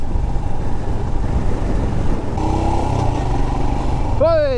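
A Royal Enfield Himalayan 411 motorcycle rides a test track with a steady engine rumble under wind buffeting, and a rising whine climbs at the very end.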